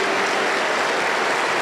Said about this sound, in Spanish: Aplauso para el Señor Jesús.